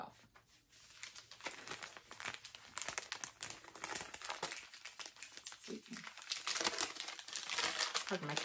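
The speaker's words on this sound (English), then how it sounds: "My crinkling." Close, steady crinkling and crumpling of packaging, dense and rustly throughout with occasional sharper crackles, a voice faintly audible underneath.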